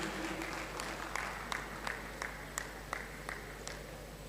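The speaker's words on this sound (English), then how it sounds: "Another round of applause for Her Excellency for making history" Scattered clapping rises from a crowd at the official draw of a women's football tournament, honoring Her Excellency. The sharp, individual claps ring out distinctly over a steady low hum, and there is no talking.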